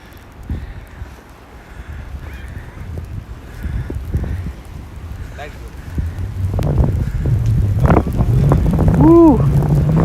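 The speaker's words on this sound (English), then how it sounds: "Ooh, there's that wind." Wind gusting across a snowy park in Prospect Park, Brooklyn, buffeting the microphone with a low roar that builds toward the end, with voices and a whoop in the mix.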